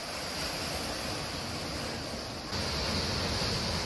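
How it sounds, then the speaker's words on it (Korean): Continuous rushing roar of ocean waves at Jangho Port in Samcheok, South Korea, broad and steady, with wind buffeting the microphone. "파도가 멋집니다."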